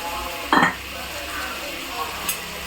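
Home-grown tomatoes being sautéed and stirred in a pan, with a short scraping burst of stirring and a soft sizzle beneath, then a couple of faint clinks against the pan.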